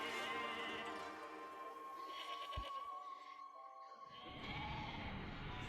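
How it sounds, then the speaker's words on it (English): Sheep in the video game Okami bleating in short, quavering calls over game music, with a sudden sharp sound effect midway and the backdrop fading, then returning. "Drunk sheep."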